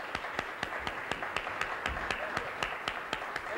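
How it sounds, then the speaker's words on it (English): A television studio audience on a 1983 morning show applauds a jazz trumpeter's arrival, a sustained even roar of many hands with sharp individual claps standing out in a regular rhythm, no talk. "And we continue that applause here as we introduce Maynard Ferguson."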